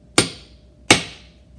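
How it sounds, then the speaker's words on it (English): Two sharp hammer strikes on an adjustable door threshold about a second apart, each ringing briefly and decaying, close up and loud. "Simply hit that with the hammer,"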